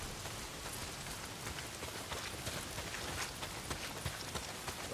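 Steady heavy rain from the video game Days Gone pours down without a break, a dense, even hiss of drops striking surfaces close by, with no voices over it.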